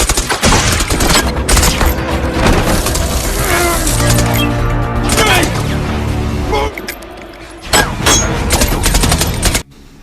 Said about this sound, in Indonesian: tapi Sam Wilson tertembak